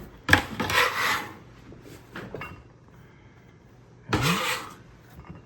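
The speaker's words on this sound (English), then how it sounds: "now I'm gonna take my bench scraper" A bench scraper scrapes chorizo street corn across a Blackstone griddle in two loud rasping strokes, separated by a quieter stretch of faint sizzle.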